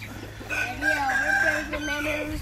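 A chicken crows and clucks nearby in a single drawn-out call that rises and falls over a low background hum.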